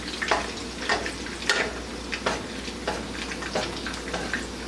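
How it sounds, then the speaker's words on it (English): Chapli kabobs frying in hot oil over medium heat, a soft steady sizzle with faint crackles and pops at a moderate distance, no voices. "And just let them fry."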